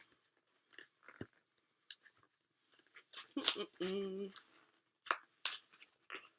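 A Feedbands mailer package is torn at, with scattered crinkles and scratches building to a loud, sustained tearing burst, then a few more sharp rips, all fairly close and interspersed with quiet pauses.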